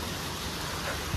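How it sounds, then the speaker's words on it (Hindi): Heavy monsoon-style rain pours in a dense, even hiss throughout the short stretch, moderately loud, with a faint low thump near the end and no talking. "बारिश देखो कितनी तेज हो रही है।"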